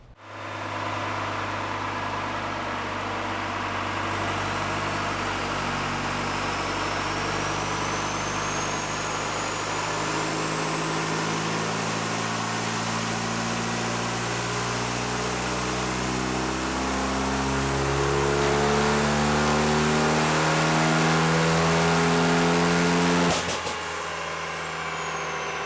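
A Cummins 4BT diesel with a ported head runs on a dyno, its heavy drone climbing steadily in pitch over a long pull, loud and constant, before cutting off abruptly near the end.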